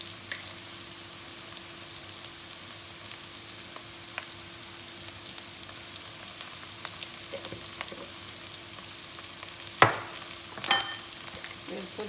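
Onion sautés in a pan with a continuous soft sizzle and scattered crackling pops, plus a couple of louder stirring scrapes near the end, quiet and close, with no talking.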